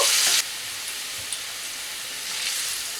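Water poured into frying masala for dhokar dalna makes a loud hissing burst that cuts off abruptly, then settles into a softer, steady sizzle that swells slightly again near the end.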